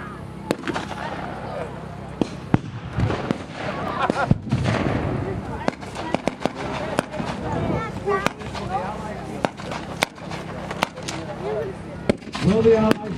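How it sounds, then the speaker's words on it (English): A 2-inch mortar fired in a field at a military muster, giving scattered sharp reports at irregular intervals among outdoor crowd noise and voices. "we've got a 2-inch mortar that we're firing in the field."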